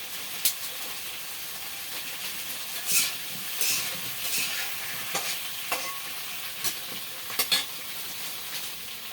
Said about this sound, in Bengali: আলুগুলো একটু লালচে লালচে করে ভেজে নেব